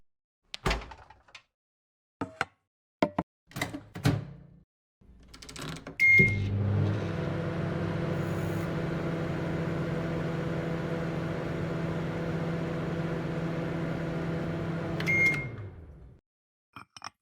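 An oven used for baking batter in a baking pan gives a few clicks and a door thump, then a beep and a steady low hum that runs for several seconds, followed by another beep and clunks as it stops.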